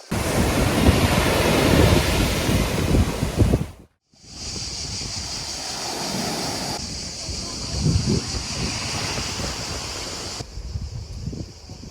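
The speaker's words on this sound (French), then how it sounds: "il y a pas mal de vent et on peut pas se baigner, d'où le drapeau rouge" Strong wind buffets the microphone on a beach in Montenegro as surf breaks nearby, a loud continuous roar that briefly drops out, then resumes with rushing waves and gusts.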